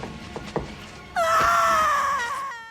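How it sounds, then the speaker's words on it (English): An actress in a Nosferatu film scene lets out a sudden, sustained, piercing primal scream after some quiet breathing and small sounds, loud and close, then cuts off sharply. "This primal scream is her."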